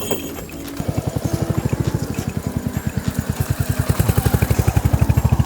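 A bullock cart rolls along with a close, steady beat of hoof clops and wooden clatter that repeats evenly and grows slightly louder toward the end.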